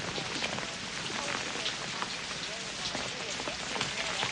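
Steady heavy rain pouring down and pattering on surfaces, a dense, even hiss that holds unbroken throughout.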